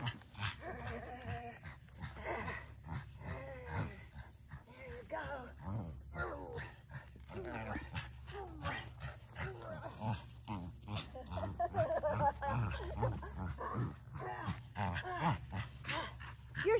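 A dog barks on cue during tug play, giving short, faint yips and barks scattered under close encouraging talk from a person, who also imitates a bark.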